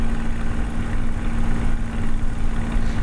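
A Spitfire MkIX engine idles in Microsoft Flight Simulator, a steady low droning rumble with a constant hum, even and continuous without speech.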